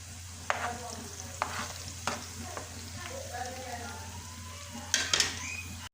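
Steady sizzle of hot oil with spices and green chilies, with occasional sharp spoon clinks and scrapes against a pan, close by.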